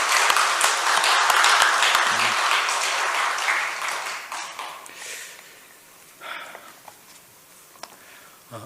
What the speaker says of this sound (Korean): 오늘 이 찬양 기쁘게 받으셨을 우리 하나님께 영광의 박수를 한번